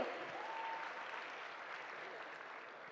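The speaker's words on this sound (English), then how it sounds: "A huge round of applause for Mr." An audience applauds a paper presenter at a tax-and-technology knowledge session, a dense, even wash of clapping that holds steady and sounds somewhat distant throughout.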